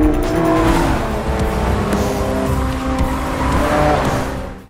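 Toyota GT86 accelerating hard during a street race in a film scene: a loud, sustained engine roar with a brief tire squeal, fading out at the end, no talking.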